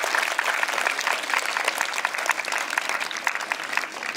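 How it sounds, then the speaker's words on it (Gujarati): Applause welcoming a guest at a school tribute program for martyred soldiers, with steady, dense clapping from a crowd for several seconds. "જોરદાર તાળીઓથી આપણે વધાવીએ."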